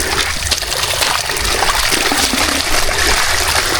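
Steady rushing water fills the clip, a continuous broadband flow of water running through a canal, close and fairly loud with no talking.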